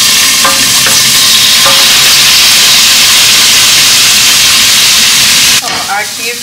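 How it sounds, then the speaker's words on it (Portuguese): Sausage sautés in a large pot with a loud, steady sizzle and hiss and occasional stirring scrapes, dropping in level near the end. "vou começar refogando a linguiça e colocando os outros ingredientes"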